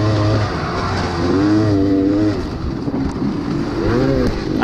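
Dirt bike engine revving hard with a slipping clutch during a motocross race, close and loud, pitch sweeping up and down in wavering surges without gaining speed.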